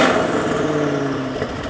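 A modified Audi RS6 C8 family car with an 800 hp engine fires up and revs, a loud, close engine roar with a tonal rumble that eases slightly toward the end.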